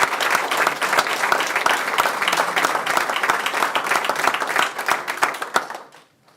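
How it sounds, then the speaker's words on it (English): Audience at a school event clapping for a group of students: close, dense applause with sharp individual claps, steady for about five seconds before tapering off into silence. "And help me join one more round of applause for the whole group."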